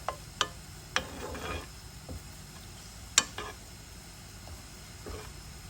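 Ingredients for ragi pongal frying in ghee in a pan, giving a soft, steady sizzle broken by a few sharp clicks and scrapes of a spoon being stirred through; no one speaks.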